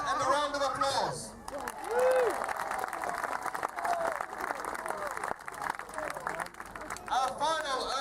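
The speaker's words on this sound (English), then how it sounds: "gained 3 good points and a round of applause" Outdoor crowd applauding and cheering at a medieval fair jousting event at Pendennis Castle, moderate applause under an announcer's amplified voice, with a horse-like whinny or call at the edges.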